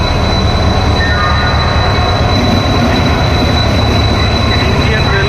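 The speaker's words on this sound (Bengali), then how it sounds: "পুরী এক্সপ্রেস ঢুকছে আমাদের ট্রেন।" Puri Express train pulling into a station in India, a loud, steady rumble of wagons and wheels with faint squeal, continuous throughout at close range.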